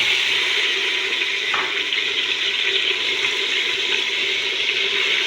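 Beef for kabsa frying in a pan with browned ingredients, a steady loud sizzle running unbroken throughout, with one brief clink partway through.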